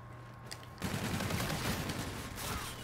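Sustained rapid gunfire in a Call of Duty: Infinite Warfare Search and Destroy match starts abruptly and continues as a dense, steady burst of shots, fairly quiet overall.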